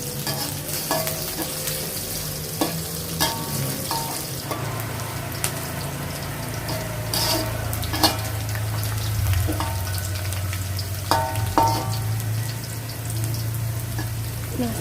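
Aromatics stir-fried in a pan for an Indonesian sautéed water spinach dish, with steady close sizzling and frequent scraping and clinking of a utensil against the pan, alone without talk.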